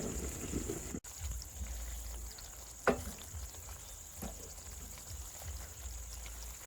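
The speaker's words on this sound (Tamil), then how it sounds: "கூன் இறாக்களை போட்டுக்கலாம். பொன்னிறமாகும் வரைக்கும் கிளறி விட்டுட்டுங்க" Prawns frying in hot oil and being stirred until golden, giving a steady close sizzle with a few sharp scraping clicks from stirring, no voices.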